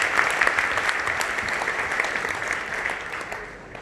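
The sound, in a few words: audience giving loud applause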